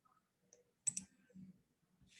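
A crisp mouse click sounds once near the start, followed by a few faint taps and soft rustles in an otherwise quiet room.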